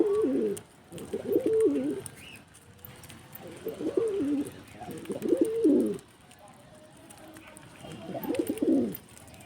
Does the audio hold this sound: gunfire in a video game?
no